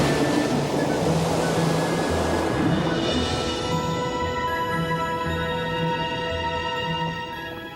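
Ocean surf washes and breaks steadily on a beach where a baby sea turtle heads for the water, a loud continuous roar of rushing waves with wind noise, and no talking.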